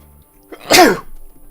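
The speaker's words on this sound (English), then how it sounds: "No sneezing allowed." One single loud, close sneeze with a brief inhale just before it.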